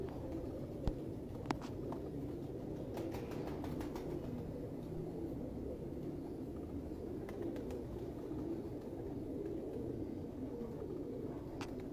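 Pigeons cooing in a loft of fancy teddy pigeons, low soft coos repeating under a murky background, with a few faint clicks and light movement sounds.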